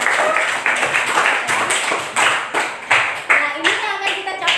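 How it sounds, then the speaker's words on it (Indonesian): A group of students in an Indonesian classroom claps in a rhythmic pattern of repeated bursts, close and loud, with voices chanting or talking along over the claps. "Kita kasih tepuk tangan."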